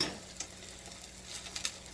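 A keto football snack fries in a pan, with a faint sizzle and soft scraping stir sounds as it is flipped, brief clinks standing out over quiet background.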